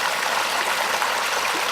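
Creek water rushes steadily over rocks in a boulder-strewn streambed, a close, even broadband wash with no pauses and no voices.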